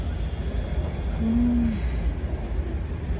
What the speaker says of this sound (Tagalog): Nandiyan sa ilalim ang train.